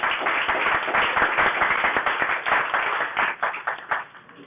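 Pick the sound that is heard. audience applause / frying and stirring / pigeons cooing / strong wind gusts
audience applause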